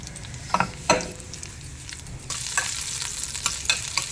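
Cumin seeds and dried red chillies fry in hot oil in a pan, giving a steady close sizzle with a few sharper crackles and stirring scrapes. The frying grows louder and busier partway through, and no one speaks.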